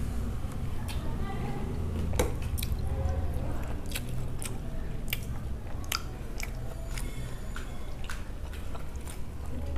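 A child bites and chews crunchy pani puri up close, with sharp crunches and wet squishy bites repeating irregularly while people talk quietly in the background.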